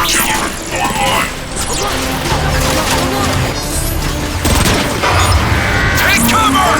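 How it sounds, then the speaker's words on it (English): An artillery strike in the video game Transformers: Fall of Cybertron: loud repeated booms, crashes and smashing impacts stack into a dense barrage, with voices talking over the din. "I'd be curious as to what an artillery strike would do to that marauder"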